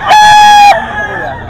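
A two-year-old White Kelso rooster of the B-boy line gives one loud, close crow lasting over half a second, followed by quieter background noise.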